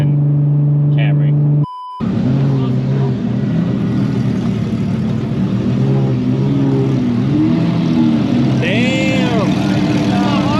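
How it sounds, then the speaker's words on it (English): A car engine, driving with no turbo boost after intercooler piping popped out, drones steadily from inside the cabin, revving and holding a constant pitch while people talk over it. "now I'm driving the car with no boost"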